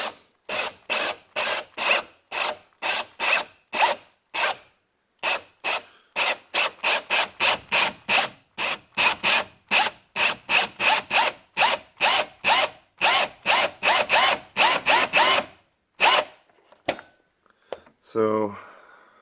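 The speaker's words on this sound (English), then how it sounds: "then you just start drilling with the hole saw" A power drill drives a hole saw through a pilot hole while a cold air intake is fitted to a 2005 BMW X5 E53 4.8is, giving about thirty loud, rasping bursts in steady rhythm that stop and start, then fall silent near the end.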